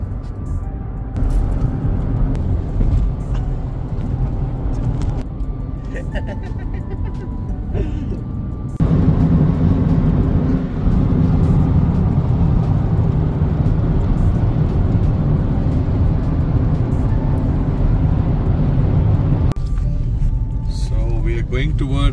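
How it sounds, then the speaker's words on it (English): A car driving on the road to a shopping mall in Calgary, a steady interior engine and road rumble that grows louder partway through. "Today we're going eat shopping, so we're just driving to the shop."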